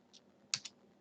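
A few quick computer keyboard keystrokes, close and faint, in short irregular taps over a quiet room.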